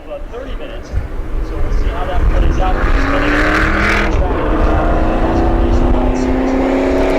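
Stock cars racing in the Whelen All-Star Shootout, engines roaring loudly as the pack surges past with rising, sustained drone, a commentator talking over the noise.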